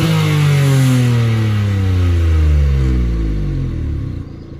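A Citroen C1 on its stock ECU map revs repeatedly from idle in a series of rising and falling sweeps, loud and close, settling back down at the end with no talking.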